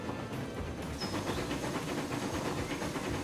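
A train runs in the Transport Fever video game with a quiet, steady rolling hiss and faint rhythmic rail clatter, heard alone without any talk.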